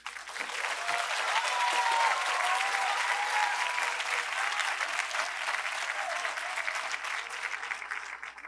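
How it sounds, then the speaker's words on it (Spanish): A crowd applauds at a youth program event in a neighborhood, broad sustained clapping from many people that rises fast and carries on evenly for several seconds, with a few faint voices underneath. "Un aplauso para todos."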